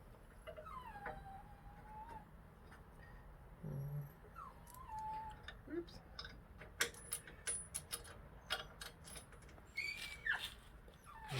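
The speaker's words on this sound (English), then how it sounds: "Hear my doggy whining in the background." Pet dog whining faintly in the background of a garage where a 2004 Harley-Davidson Dyna Super Glide is being worked on, with intermittent high whimpers and soft clicks and taps of tools.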